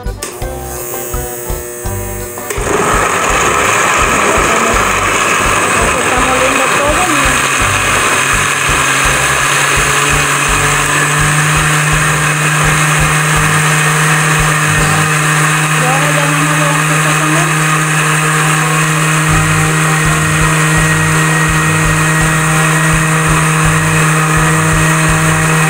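A blender grinds chipotle, oregano, garlic and water for a Mexican calabacitas con queso sauce, starting after a short pause and then running loud and steady with a continuous motor whine and churning.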